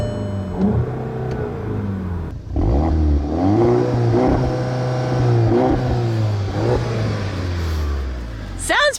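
A 2015 Volkswagen Golf GTI two-door revs hard up close, its engine note climbing and falling in repeated loud sweeps for several seconds.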